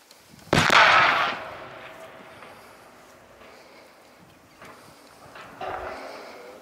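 A radio tower antenna at the Jászság radio station is brought down by a planned explosive demolition: one sharp, loud blast followed by a long rumbling decay and a few fainter thuds and crackles, with no talk.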